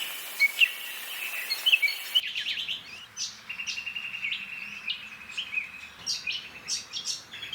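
New Holland honeyeater calling in Sydney bushland, a run of bright, sharp chirps and high tweets repeating in quick irregular bursts at moderate distance with no voices.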